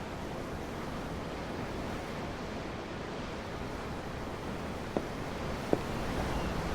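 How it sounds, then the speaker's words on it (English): Ocean waves wash steadily at a pier in Tales of Arise, a constant soft surf roar with two faint clicks near the end and no talking. "The waves."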